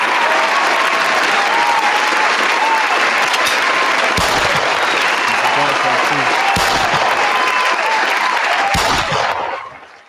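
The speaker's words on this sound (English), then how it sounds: "I gotta give y'all hand claps for that one" A crowd bursts into loud, dense hand clapping that holds steady for several seconds, with a few sharper thumps, before fading out at the end.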